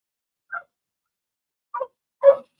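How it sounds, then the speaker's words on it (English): A dog gives three short barks indoors, heard faintly from a distance with silence between them, the last one louder and fuller than the first two. "that's why you hear the dog"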